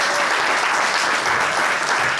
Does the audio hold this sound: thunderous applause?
yes